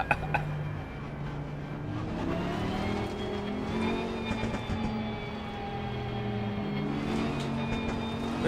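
A Nissan GT-R race car in Assetto Corsa Competizione holds a steady, moderately loud engine drone that rises and shifts pitch through gear changes, with no one talking.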